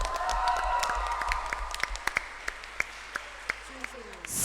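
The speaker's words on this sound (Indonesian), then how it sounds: "tepuk tangan untuk kita semua" A school competition audience claps together in a burst of applause that thins to a few scattered, separate claps near the end.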